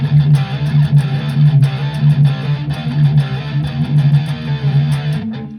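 Electric guitar played through a Quad Cortex amp modeler on scene C, with sustained, dense chords that ring continuously at a strong level without pause. Nobody speaks.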